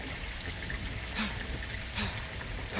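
Heavy rain pours steadily in the Modern Warfare II campaign, a dense broadband hiss of falling water with faint low rumbles and soft patter underneath, continuous and close throughout.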